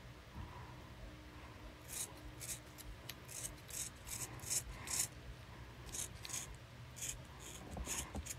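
Large scissors cutting material for a handmade hair clip, a series of soft close snips and rasping scrapes in irregular bursts, faint and quiet with no talking.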